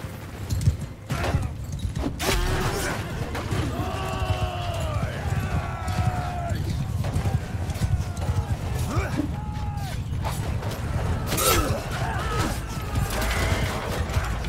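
Cavalry horses in the Mount and Blade 2 video game give a steady clatter of hooves and creaking tack that runs throughout, dense and continuous, while voices cry out over the top.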